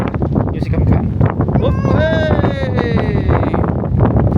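Strong wind buffets the microphone at an outdoor camp, a steady broadband roar running the whole time beneath a person talking and a brief high tonal squeal near the middle.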